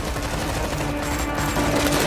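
Gunfire sound effect from a Kinyarwanda-dubbed action film, a dense continuous barrage of shots, steady and loud throughout, with no speech.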